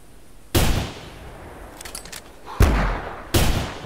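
Three sharp, booming rifle shots from the hunting game theHunter, spaced a second or two apart, each with a short echoing tail over a low ambient background.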